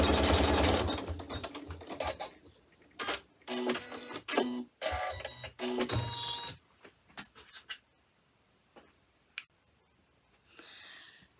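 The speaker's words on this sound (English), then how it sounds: "And then I'm going to stitch step number 6 on the machine." A sewing machine stitching fabric for a chenille hot pad, bursts of rapid mechanical whirring and clatter separated by pauses, close and clear, with small clicks and handling noises between runs and no speech.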